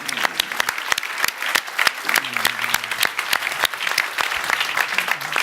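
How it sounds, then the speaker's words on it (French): An audience in a studio applauds with crisp, close, rapid clapping that holds steady throughout, while a voice briefly talks underneath partway through. "Je voudrais que vous applaudissiez parce que c'est un homme extraordinaire aussi."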